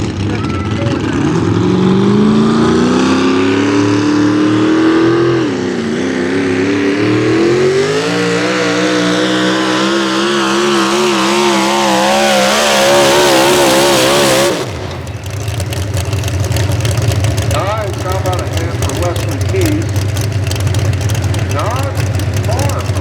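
A Chevy pulling truck roars loudly at a truck pull event in Boonsboro, its engine climbing in pitch under sustained full throttle before a sharp shift to a rough, heavy mechanical drone, with crowd and announcer noise around it.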